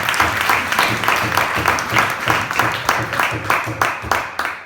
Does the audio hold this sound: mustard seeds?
no